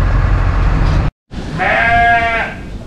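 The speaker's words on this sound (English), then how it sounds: "Look at all those happy sheep eating." Sheep bleat loudly and close by, a wavering, drawn-out call after a brief gap in steady background noise.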